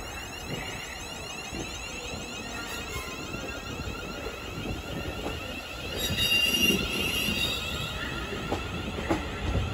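A London Northwestern Railway Class 350 electric multiple unit at Crewe station, a steady rumbling rail roar with a high whine, growing louder around the middle and continuing at close range, with no talk.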